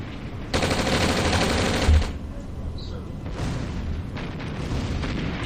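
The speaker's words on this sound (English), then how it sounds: "Airstrike coming in, making quick work of just about everything like normal." An airstrike in the OpenRA strategy game: a long burst of rapid gunfire with a heavy thump of explosion, followed by further bursts of shooting and blasts, while a commentator talks over the action.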